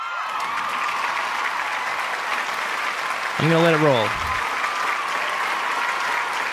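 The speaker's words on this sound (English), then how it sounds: "I'm going to give you some claps for that." An applause sound effect plays: a dense crowd clapping steadily from start to finish, with a voice speaking briefly over it midway.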